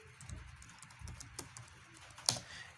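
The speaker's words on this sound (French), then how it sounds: "là on va taper ipconfig." Someone types ipconfig on a computer keyboard, producing a short run of soft, irregular key clicks ending in one sharper keystroke, quiet and close with no talk.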